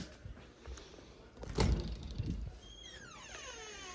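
A food storage pantry door in a home opens with a short rolling slide and a soft thud partway through, followed by faint rattling and a brief high squeak as the door settles.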